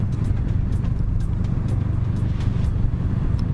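Kawasaki Ninja 650 motorcycle under way, a steady low engine drone with wind rush filling the ride, heard continuously and fairly loud from the rider's position.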